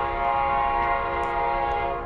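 Norfolk Southern freight train 11N and a New Jersey Transit train meeting and passing, a loud, steady rumble of rolling cars under strong horn tones that sustain from start to finish.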